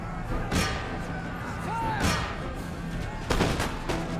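Musket volleys in the battle game Empire: Total War crack out as several broad bursts against a steady battlefield din, with a brief shouted command in the mix.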